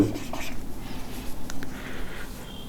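Pen scratching across paper while a physics problem is worked out by hand, faint irregular scribbles and short strokes, close but quiet over a low background murmur.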